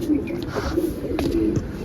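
Pigeons in a loft at feeding time give low, steady cooing throughout, close and moderately loud, with soft rustling and no talk.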